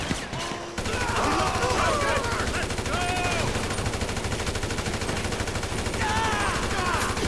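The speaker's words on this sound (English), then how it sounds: "Wow, this assault rifle has quite the extended clip." An assault rifle with an extended magazine fires in Grand Theft Auto V: long, dense automatic bursts, loud and close, with voices speaking over the shooting.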